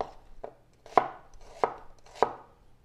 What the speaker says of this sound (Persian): پیازمو به قطعه کوچیک خردش میکنم